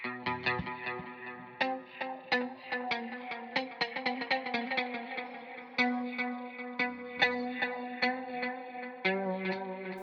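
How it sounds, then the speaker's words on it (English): Low-gain electric guitar played through a BOSS GX-100 multi-effects unit with its Terra echo, a mix of delay, reverb and filtering; a run of plucked notes and chords rings out close and clear, each trailing into a shimmering wash, with no voices. "I suppose its main feature is the Terra echo."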